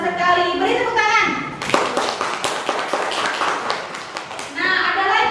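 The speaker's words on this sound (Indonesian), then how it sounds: "Wah, pintar sekali. Beri tepuk tangan." Children in a classroom clap together in a short burst of quick, scattered hand claps, framed by a teacher's voice before and after.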